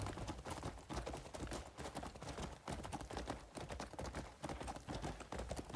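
Horse hooves clip-clop steadily in Crimson Desert, a dense, continuous rhythm of hoofbeats at a running pace, fairly quiet but unbroken, with no talk over them.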